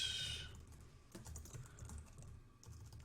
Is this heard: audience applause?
no